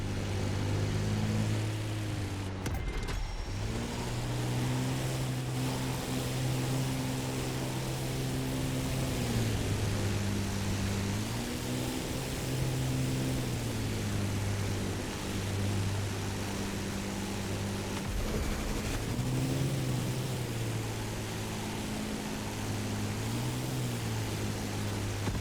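A propeller plane's engine drones in The Crew Motorfest racing game, a steady buzzing hum that rises and falls in pitch as the throttle shifts, running continuously with no voices.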